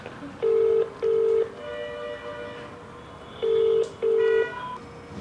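A telephone call is placed, and the line answers with two pairs of loud, evenly spaced ringing tones separated by a pause, over quiet background hum.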